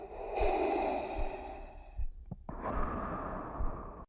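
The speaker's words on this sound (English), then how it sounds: "Darth Vader's breathing is probably one of the most recognizable sounds in movie history." Darth Vader's mechanical respirator breathing: a long hissing inhale, a brief gap with clicks, then a rasping exhale, close and steady.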